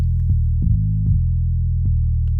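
Deep FM-synthesized bass notes, one Sytrus operator modulating another at about 15%, change pitch every half second or so, each onset marked by a faint click, loud and close without any talking.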